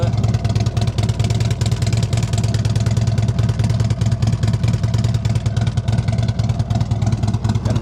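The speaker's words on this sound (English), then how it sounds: "And then they put a set of Reinhardt Racing mufflers on it, so it's got a real nice sound to it." Harley-Davidson Road Glide Special motorcycle with a Vance & Hines pipe and Reinhardt Racing mufflers, its engine running with a steady, loud, close-up low throb and a rapid uneven pulsing rhythm, heard alone without talk.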